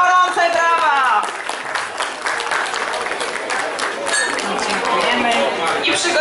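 Festival crowd applauding a village women's group at an outdoor broth festival, loud sustained clapping with a voice over the start and chatter mixed in.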